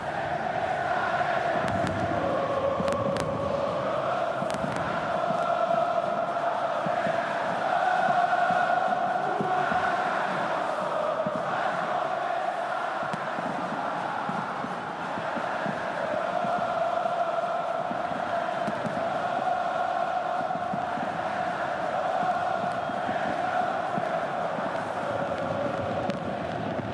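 Flamengo fans fill Maracanã stadium with a steady, dense roar of crowd chanting and cheering, sustained and loud throughout with no pauses.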